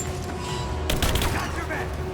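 Gunfire in the video game Rise of the Tomb Raider, a sudden burst of rapid shots cutting in over a low background rumble, with faint voices underneath.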